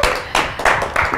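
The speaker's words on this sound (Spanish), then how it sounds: "recibamos en el Kuna Show con un fuerte aplauso a Jenny Serrano" A few scattered hand claps from a TV studio audience welcoming a guest, close and sparse, four distinct claps in just over a second.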